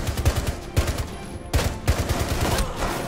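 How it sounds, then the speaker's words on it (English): Pistol fire in Rainbow Six Siege, a handful of sharp, close shots in uneven bursts over a dense game background. "Oh, pistol battle."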